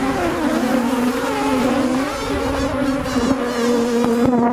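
Dense, agitated buzzing of many aggressive, defensive honeybees swarming close by at a hive in hurricane wind, a steady droning hum with shifting pitch that never lets up.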